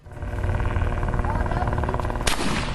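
Gunfire during family target shooting outdoors: a dense, loud, sustained rumble with a sharp crack near the end, under indistinct background voices.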